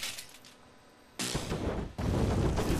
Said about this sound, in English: Firewalls and an AoE fire explosion.